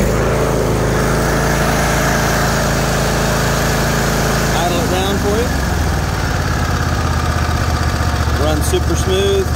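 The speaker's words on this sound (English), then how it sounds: "This is a really good mower right here. Fire it up, show you what she's got." A Craftsman 42-inch zero-turn riding lawn mower engine idles with a steady loud low rumble, close by, with the pitch shifting partway through and a voice talking over it.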